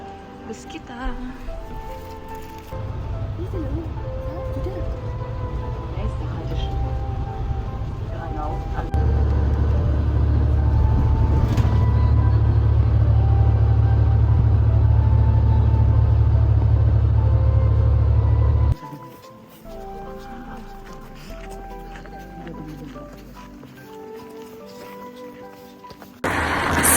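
Inside a tour bus, a steady low engine rumble swells louder mid-way, then drops off as the vehicle settles, with people talking throughout.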